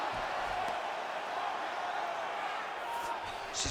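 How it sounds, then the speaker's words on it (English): A roaring arena crowd in a UFC video game simulation of a women's bout, a broad continuous cheer swelling slightly throughout, with a faint whoop near the end. "crowd pops as she reverses position"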